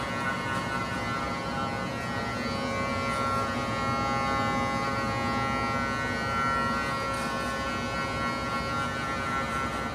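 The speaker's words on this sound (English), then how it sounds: "I'm just going to get my full shaver again, go over the cheek if there's any little stubble I missed" An electric shaver buzzes steadily over cheek stubble during a beard fade touch-up, a close, continuous motor hum with no talking.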